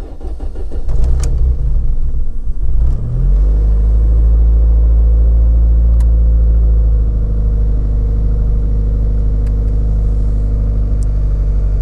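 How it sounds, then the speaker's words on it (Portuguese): A car engine running on 65% ethanol fuel cranks briefly, catches and starts, then settles into a loud, steady idle with a slight rise in revs, close up and with no talking. "Vamos ver aqui como é que o carro vai comportar na partida."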